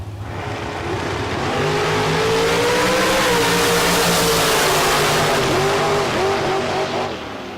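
Bracket drag race cars launch at full throttle at the Texas Motorplex, a loud, sustained engine roar with rising revs and a faint tire squeal, filling the whole stretch with no talk.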